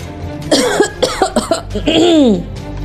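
A woman coughs loudly and repeatedly in a dramatic television scene, several harsh close bursts with a strained, throaty rasp before a longer drawn-out final cough.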